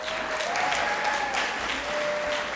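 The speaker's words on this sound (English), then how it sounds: "So please let us all applaud" Audience applause at a leadership luncheon, steady dense clapping from a room of people, moderately loud and continuous throughout.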